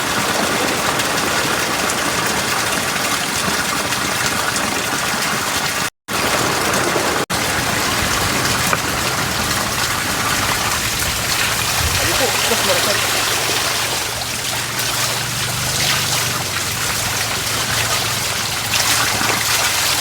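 Water flows steadily at an outdoor bathing spot, a dense, close rushing wash that runs the whole time and is briefly cut once, with faint voices now and then beneath it.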